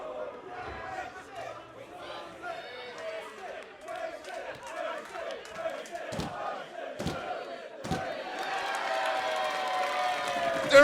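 A wrestling crowd inside the Grand Theft Auto game cheers and roars under an excited commentator's voice, with a few sharp thuds and the crowd noise swelling toward the end.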